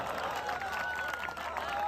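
A crowd claps at a live comedy performance held in a police training center, a dense, continuous patter of applause at moderate level with faint voices mixed underneath.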